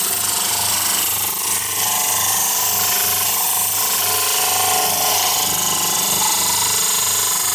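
Power tool trimming excess material from the base of a dental plaster model cast from an alginate impression, a loud, steady grinding buzz with a low hum running continuously, no talk.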